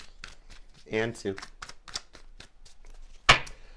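Tarot cards shuffled in a deck, a short riffle burst followed by a sharp crisp snap near the end, with a person talking over and around it.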